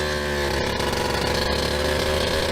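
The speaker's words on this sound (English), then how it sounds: "As I turn on the engine and we're heading out." A race car engine runs as the car heads out onto a wet track, producing a loud, steady, buzzing drone close by with no pauses.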